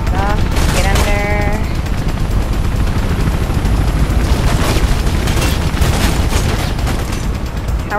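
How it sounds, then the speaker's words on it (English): Gunfire in Mirror's Edge, loud sustained automatic shooting mixed with heavy booms and a few sharp electronic chirps, pounding without pause for several seconds while a voice talks over it. "How are you still shooting me when I'm clearly not even"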